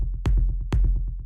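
Deep techno rumble kick run through an auto filter: two heavy kick hits with a booming low tail and a crunchy, rolling rumble of repeats between them, loud and alone with no voices.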